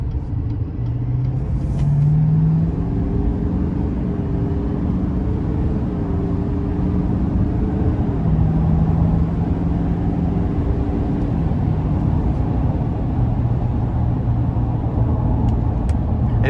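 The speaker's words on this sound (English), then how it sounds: "We're gonna give it some throttle here getting on the interstate." A 2021 Chevrolet Silverado 2500HD heavy-duty pickup with a 10-speed automatic accelerates onto an interstate, its engine a steady, loud low rumble that rises in pitch through the gears over constant road noise, with no talking.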